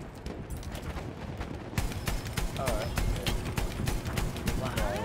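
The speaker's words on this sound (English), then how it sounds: "I got a horse." A horse gallops in a Battlefield 1 battle, rapid hoofbeats pounding in a steady rhythm among scattered gunfire, loud and close, with a voice talking over it.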